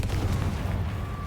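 A Confringo blasting spell detonates in Hogwarts Legacy, a deep booming burst with a rumbling low-end tail that fills the short moment, loud and close.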